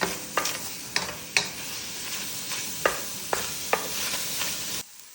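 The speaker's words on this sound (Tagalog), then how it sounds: "sinalang ko na itong pan at ngayon lalagay ko na itong chicken breast. Mix ko lang siya hanggang mawala yung water niya." Chicken breast frying in olive oil in a pan, a constant close sizzle broken by sharp utensil clacks against the pan roughly every half second as it is stirred, ending abruptly.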